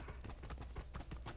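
Hoofbeats of a horse being ridden in the fantasy game Two Worlds II, a steady quick clip-clop of hooves repeating throughout at close range with no talk.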